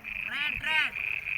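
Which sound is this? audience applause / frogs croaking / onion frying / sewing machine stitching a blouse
frogs croaking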